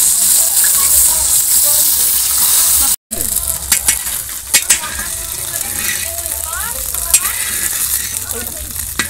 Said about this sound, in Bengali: টকের জন্য মৌরলা মাছ পুঁটি মাছ সব ভেজে নেবো